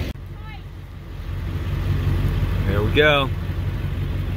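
A truck engine idles with a steady low rumble throughout while hauling logs for a mill, with a brief spoken word and a short vocal sound heard over the drone.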